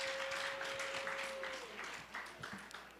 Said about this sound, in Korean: 함께 박수로 마무리하고 광고로 이어가도록 하겠습니다.